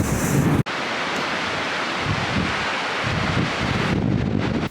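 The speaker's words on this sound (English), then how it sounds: "Wow, it's a bit windy." Wind buffeting the microphone by a riverbank in Wales, a loud broadband roar that drops out briefly near the start and then blows steadily, gusting, with no one talking.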